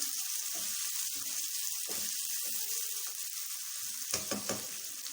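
Chopped onion and masala fry in hot oil for chicken dum pukht, a steady close sizzle with occasional stirring clinks and scrapes.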